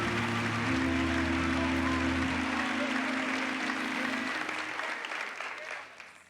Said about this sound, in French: donnez-lui une grande acclamation